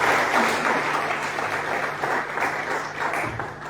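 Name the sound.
church congregation applauding for the Lord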